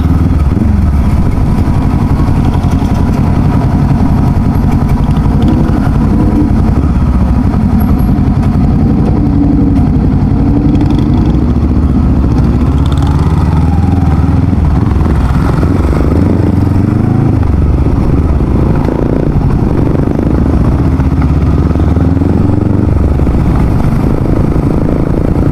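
Continuous low rumbling engine noise with the exhaust of a Voge 300 Rally motorcycle burbling and passing vehicles, steady and loud throughout with no voices.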